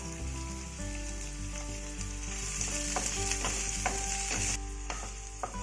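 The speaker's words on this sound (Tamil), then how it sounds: "ஃபஸ்ட்டு இஞ்சி பூண்டு வதக்கிக்கலாம்" Steady sizzling of chopped ginger and garlic frying in hot oil for chana masala, with occasional clinks and scraping of a utensil stirring the pan, no talking.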